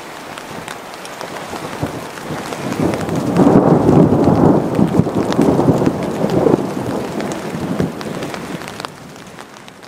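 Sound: rain and thunderstorm

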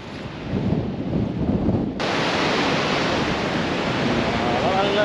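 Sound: Hengifoss waterfall in Iceland

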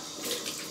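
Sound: water splashed onto face at sink while shaving

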